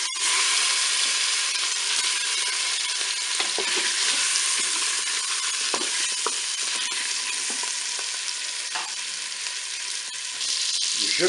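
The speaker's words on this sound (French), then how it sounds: "mon beurre est bien chaud et fondu, donc je vais faire revenir mes paupiettes" Paupiettes brown in hot melted butter inside a Cookeo multicooker, giving a bright, steady close sizzle with occasional stirring scrapes and pops.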